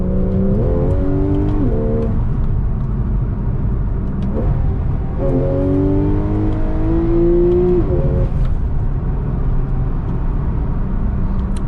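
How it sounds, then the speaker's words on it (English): A Porsche 911 Targa 4 GTS engine heard from inside the car while driving, with a loud steady rumble and several rising revs as it accelerates through the gears, pitch sweeping upward then dropping at shifts. "Such a great distinctive pitch the Porsche 911s make."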